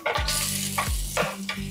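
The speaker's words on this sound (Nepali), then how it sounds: "र प्याजलाई एकछिन भुट्न गइरहेछु।" Onion frying in hot oil with ginger and garlic, a steady loud sizzle with repeated bursts of stirring and scraping throughout.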